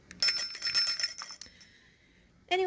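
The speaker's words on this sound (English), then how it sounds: "when you dial on it, it makes the bell ring" Bell on a flea market telephone ringing as it is dialed: a bright metallic jangle that rings for over a second and fades, then a second short ring starts at the end.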